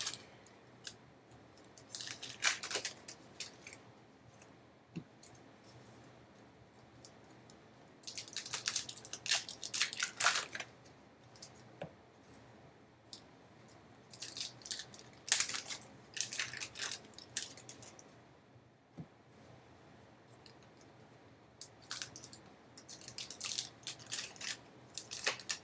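Trading card pack wrappers are ripped open by hand in repeated bursts of crinkly tearing and rustling, close and fairly quiet, separated by short near-silent pauses.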